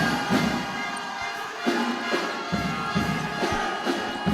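A jam-packed crowd in the June 20th gym in Taguig City during a basketball finals game, roaring and cheering with rhythmic pulsing claps and thumps, dense and loud throughout.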